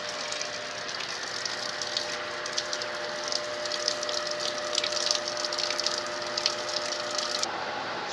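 An electric water pump with a replaced backplate runs steadily as it draws water from a house, giving a continuous close mechanical hum under a loud, even rush of flowing water, which cuts off abruptly near the end.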